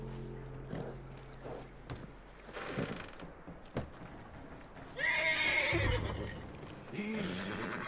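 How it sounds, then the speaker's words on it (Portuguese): A horse in Red Dead Redemption 2 gives a loud whinny midway, surrounded by hoof clops, tack jingles and game ambience, with a brief second snort near the end. "Acalmar o cavalo."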